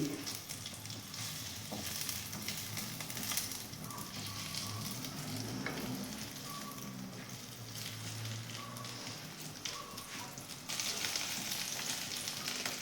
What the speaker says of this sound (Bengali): আঁচটা কমিয়ে অল্প তেল দিয়ে এইভাবে এপিট ওপিট করে আমি সেঁকে নেব।